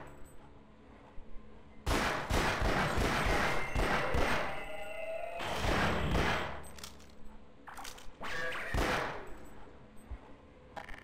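Bursts of gunfire in the first-person shooter Half-Life: Source, loud and close, coming in three heavy volleys with short gaps, each a dense cluster of rapid shots with thuds and echoing tails.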